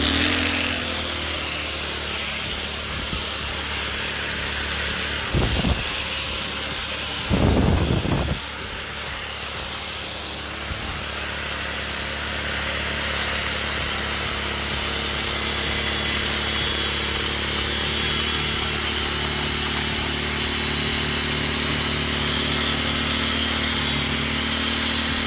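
A power tool runs close and loud as a steady, harsh, hissing roar that holds for the whole stretch, with brief bursts of louder grinding partway through.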